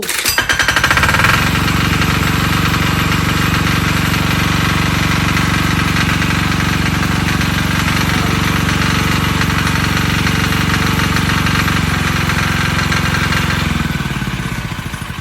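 A small engine, pull-started, sputters to life and then idles loudly with a steady, rapid chug before cutting out near the end.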